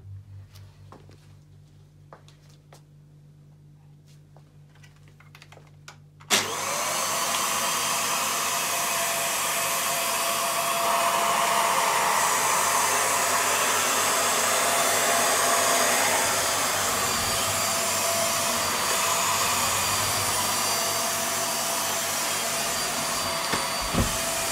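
A VAX Air Stretch Pet Max upright vacuum cleaner switches on after a few seconds of quiet room sound, then runs at a loud, steady whine and roar for about eighteen seconds while hoovering, with slight shifts in pitch as it moves.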